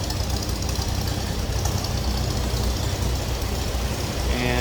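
The engine of a 1929 Chevrolet AC International two-door sedan idles while warming up, a steady, close, dense mechanical rumble that runs continuously without pause.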